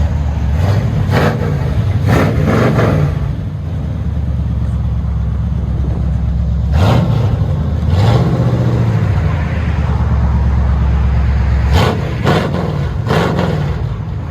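A 1979 Chevy 454 big block V8 on straight pipes revs several times over a loud, throaty idle, with paired blips early, a longer rise and fall near the middle, and a quick cluster of revs at the end, no talking.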